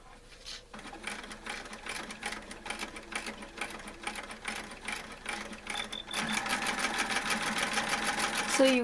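A sewing machine runs straight stitches through a small artisanal basket in quick, rattling bursts, close and fairly quiet, then a continuous faster run that grows louder near the end.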